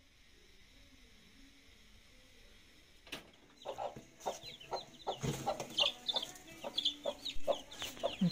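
Backyard chickens clucking close by, a run of short repeated clucks and chatter beginning after a few seconds of near silence and growing busier toward the end.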